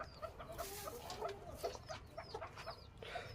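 A hen clucks in a farmyard after laying an egg, giving repeated short clucks in an uneven rhythm, fairly faint, with other bird calls around.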